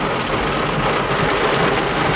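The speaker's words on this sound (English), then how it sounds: "This is a lot of rain" Heavy thunderstorm rain in Walkertown, North Carolina pours down steadily in a dense, loud roar of drops with no pauses, close by and filling the whole soundscape.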